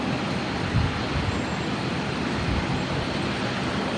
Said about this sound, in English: So the Singapore taxiing along taxiway Alpha.